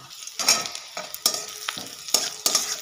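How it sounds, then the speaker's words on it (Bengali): A spatula stirs and scrapes black cumin seeds through sizzling oil in a pan, with several distinct strokes over a steady crackling fry. "কালো জিরেটাও একটু নেড়ে নেব"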